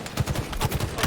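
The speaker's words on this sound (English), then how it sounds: "From the 3-round bursts of the battle rifle" Halo Infinite battle rifle fires quick 3-round bursts in the video game, loud sharp shots in tight rhythmic clusters over about a second.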